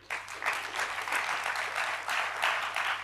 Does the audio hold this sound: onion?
no